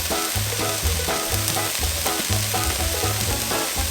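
Corn and diced fresh tomatoes fry for maque choux, a loud, close, continuous sizzle with a low rhythmic bubbling pulse running through it and nothing else over it.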